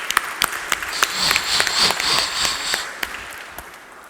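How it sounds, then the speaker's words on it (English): An audience at a live banking hackathon event claps for its gold partners, a loud burst of applause with sharp individual claps that swells and then thins out. "Please let's also give them a round of applause."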